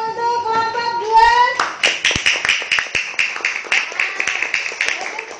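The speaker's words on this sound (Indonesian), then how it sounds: "Ya, tepuk tangan untuk kelompok 2." A classroom of students claps for a group after their presentation, with a voice speaking briefly before a run of sharp, fairly even hand claps that continue for several seconds.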